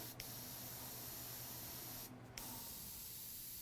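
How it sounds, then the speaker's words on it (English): A steady hiss of an airbrush spraying plain air to dry paint on a fantasy art painting runs continuously, with a brief break near the end before resuming, close and moderately quiet. "I spray some air so to let it dry a little bit"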